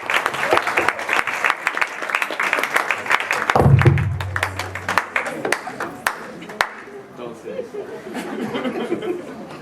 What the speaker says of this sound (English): So I'll give you one more round of applause, please, ladies and gentlemen